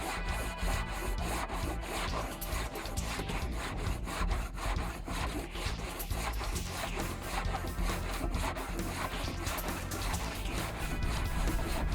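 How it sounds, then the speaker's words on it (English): A blade block scraping and smoothing a wood surface at the 80 position, continuous rhythmic rasping strokes at close range with no talking. "the blade block at the 80 position will further smooth the surface"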